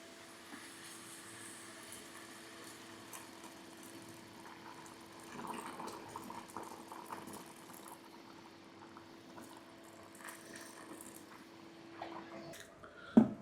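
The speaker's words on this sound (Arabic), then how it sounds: "احنا حاطين مية بتغلي" Boiling water poured into a pot of bolognese pasta sauce gives a quiet bubbling, sizzling stream with soft splashes and a faint steady hum, ending in a brief louder clatter.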